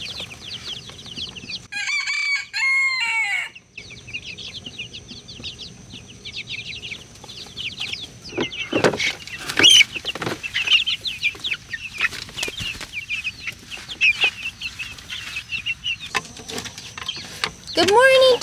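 Chickens on a Texas farm cluck and squawk in bursts while a rooster crows loudly early on. Other calls come near and far, a voice speaks briefly, and the activity grows livelier toward the end.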